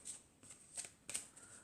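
Someone shuffles a deck of archangel oracle cards, giving several soft, quick riffles. The faint, crisp rustles come in separate bursts with short pauses between them, and no one talks.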